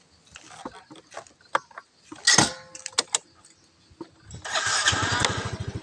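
Clattering and tugging gives way to a grass trimmer's small engine, under repair, sputtering to life, then running with a rapid, buzzing putter, close by.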